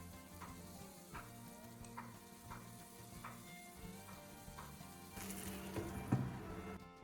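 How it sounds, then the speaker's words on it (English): Egg-filled tomato rings sizzle softly in a pan after being flipped with a spatula, a quiet steady hiss under a faint repeating background tone, with a brief louder rustle and scrape toward the end. "Carefully flip each tomato ring using a spatula and let them cook for another minute or 2 on the other side."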